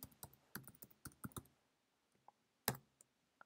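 Someone types on a computer keyboard at close range, a quick burst of crisp key clicks followed by a pause, a couple of isolated taps and one firm keystroke, with no voices.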